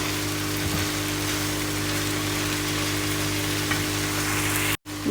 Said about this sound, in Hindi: अच्छी तरह से मिक्स करके तो आपने इसको तकरीबन 10 मिनट के लिए भुनाई करनी है इसकी